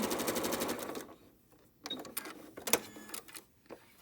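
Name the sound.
sewing machine stitching quilt block pieces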